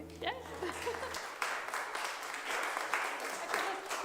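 Audience applause breaks out at a church Sunday service concert, broad steady clapping sustained across the clip after a brief moment of speech and a low hum at the start.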